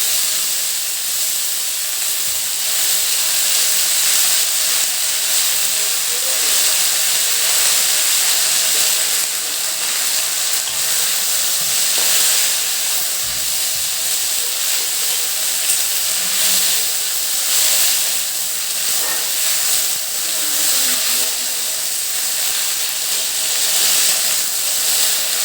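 Kolai greens hit hot oil with fried garlic and green chilli, giving a loud, continuous steaming hiss that runs unbroken throughout, close up and without speech.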